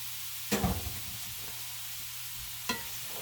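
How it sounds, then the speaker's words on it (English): Onion and cabbage sizzle softly as they sauté in a pan, with two sharp clatters of a utensil stirring and scraping against the metal. "So now I'm going to let this saute for a few minutes until softened."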